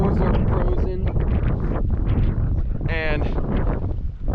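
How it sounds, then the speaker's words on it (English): Strong wind sweeps across a cold lake in the Yellowstone wilderness, battering the microphone with a loud, continuous roar and gusty buffeting. "it's windy, and there's rain"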